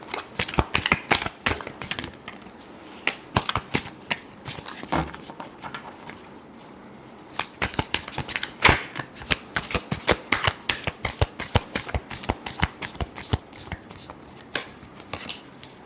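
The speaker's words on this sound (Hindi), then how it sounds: "last shuffle" Tarot cards being shuffled by hand in a steady run of crisp riffling flicks and slaps, close and clear, with a brief pause partway through.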